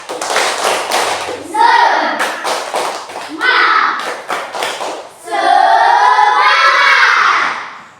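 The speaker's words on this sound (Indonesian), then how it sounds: "tepuk dulu semangat. Tepuk semangat." An Indonesian classroom of pupils performs a rhythmic 'tepuk semangat' spirit clap at a teacher's call, with bursts of patterned clapping alternating with children's chanting voices, loud and close.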